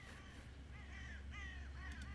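Several crows caw in short, harsh bursts inside the Cooking Companions game, two or three distinct calls at moderate distance over a quiet low hum.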